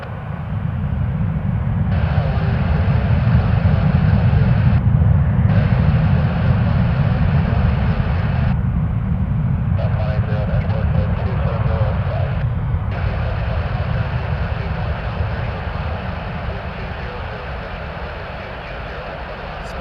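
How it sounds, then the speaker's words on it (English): A WestJet Boeing 737-800 in the old swoop livery, flight 671 to Calgary, roars loudly and steadily at Toronto Pearson Airport, its deep engine rumble filling the scene throughout with broadband hiss swelling and briefly dropping away. "WestJet. Headed to Calgary, 737-800, flight 671 with an old swoop livery."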